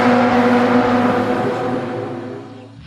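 Classic racing cars at the Espiritu de Montjuic 2019 festival roar by at full speed on the track, a loud, rasping engine howl close at first that gradually fades as the cars pull away.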